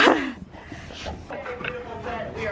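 An excited black Lab and pit bull mix dog, five years old, whimpers and yips in short bursts at close range, with a louder bark-like burst at the start and people talking over it.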